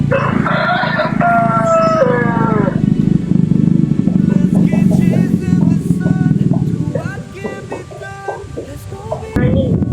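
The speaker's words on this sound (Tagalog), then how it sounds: "Grabe yung mga manok dito tol." Several loud rooster crows ring out near and far, overlapping amid a busy background of other birds and chatter.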